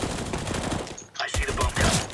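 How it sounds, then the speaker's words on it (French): Gunfire in a ranked match of a shooting video game on the Inferno map, with bursts of rapid shots and impacts throughout, a brief lull in the middle, then louder firing resuming. "Il me tire dessus un peu Yellow"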